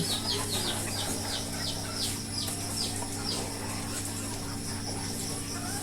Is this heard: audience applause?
no